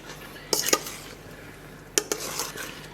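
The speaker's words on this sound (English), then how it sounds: "I'm going to give the filling another good stir so that the sugar doesn't all just stay in the thing." Rhubarb custard pie filling with sugar stirred in a bowl, two short bursts of spoon scraping and clinking against the dish, close and moderately loud with quiet between.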